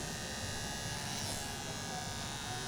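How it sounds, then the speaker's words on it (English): Electric hair clippers buzz steadily and close by while cutting hair at a barber's, a continuous dense whir with no pauses. "So I'm gonna do more clipper over comb"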